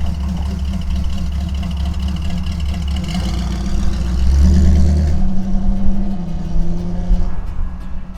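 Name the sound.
old kit car driving past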